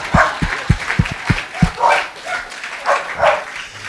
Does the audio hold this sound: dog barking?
yes